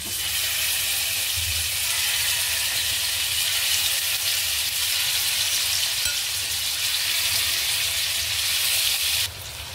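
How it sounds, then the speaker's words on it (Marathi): Prawns shallow frying in hot oil in an iron wok give off a steady, loud, hissing sizzle that continues unbroken and drops off abruptly just before the end. "आता तेल गरम झाले, आपण एक प्रॉन्स ना असा तेलामध्ये सोडून घेऊया।"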